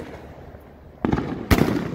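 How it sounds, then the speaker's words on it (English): During a Fourth of July fireworks display, a launcher blows up with two loud bursts about half a second apart, each a sharp crack followed by crackling fallout. "It blew up the launcher."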